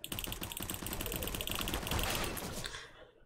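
Rapid automatic gunfire in the video game Counter-Strike, a dense burst of shots lasting about three seconds that stops abruptly, loud and close with no talking.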